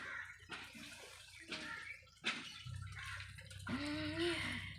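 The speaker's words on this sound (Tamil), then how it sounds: "இங்கே எதுக்கு இப்போ தண்ணி தெரிக்கிற" Water splashes and runs in uneven bursts, with a tap or pour filling a basin while fish are cleaned outdoors in the heat; close and fairly quiet, with short gaps between splashes.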